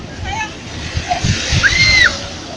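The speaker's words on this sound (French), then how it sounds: "des vagues qui arrosent les côtes de la province autonome" Lake waves slosh and splash against the shore at an eco-tourism site in China, a close, continuous watery wash with small surges, faint bird-like chirps above.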